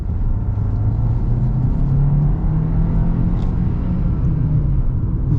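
A turbocharged 2024 Hyundai Kona N-Line accelerating at high elevation with the windows open, a loud, steady low engine rumble and road roar heard from inside the cabin.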